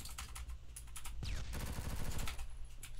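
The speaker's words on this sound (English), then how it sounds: "I hear sniper noises." Sniper rifle fire in the Phantom Forces shooter game, heard as a quick burst of sharp cracks mid-clip over steady game background noise and light clicking.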